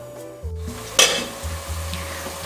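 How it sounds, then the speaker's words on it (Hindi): Onions fry in a pan with a soft sizzle. A spoon gives one sharp scrape and clatter midway, and a low hum from a stove or fan runs underneath throughout. "प्याज को हमने कलर चेंज होने तक फ्राई करना है।"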